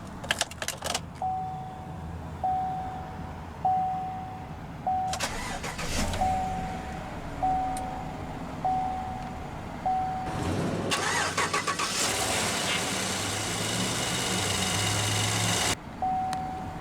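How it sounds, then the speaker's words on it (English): A 2016 GMC Sierra 1500 Double Cab pickup with a 5.3L V8 and 4WD cranks and fires up, then settles into a steady idle, after a series of chimes and cabin clicks. No one speaks. "let's go ahead and start the engine."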